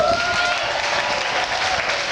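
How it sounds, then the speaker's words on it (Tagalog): Applause from a church congregation during a Filipino charismatic worship service, a steady dense wash of clapping filling the whole moment at close range, with no talk over it. "Lahat ng pumalakpak na yung pinagaling ko."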